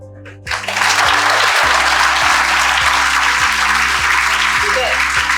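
Audience applause in a lecture hall after a talk by a police superintendent, dense steady clapping that swells quickly and continues loud throughout, with a rhythmic low thumping underneath.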